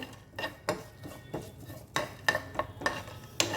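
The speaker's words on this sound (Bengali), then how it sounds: "ঘিয়ের মধ্যে মশলাটাকে ভালো করে ভেজে নেব" Spice mix frying in a spoonful of ghee while being stirred, with sharp spoon scrapes and clinks against the pan at an irregular rhythm over a faint sizzle, close and fairly quiet.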